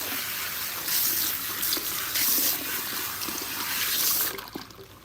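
Water runs steadily from a salon sink tap during a shampoo rinse, a continuous hiss that swells and eases as the flow shifts, with faint handling sounds and no talking.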